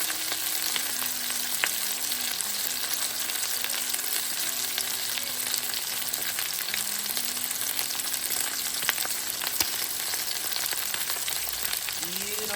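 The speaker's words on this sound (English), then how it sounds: "Just searing them on both sides" Lamb searing on both sides in a hot pan, a dense, continuous loud sizzle close up, with a low steady tone humming underneath.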